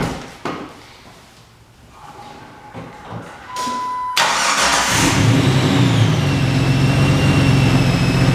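A Jeep TJ with a 4.6 stroker engine starts: after faint handling noises and a short starter whine, the engine catches with a sudden loud burst and settles into a steady, rumbling idle close by.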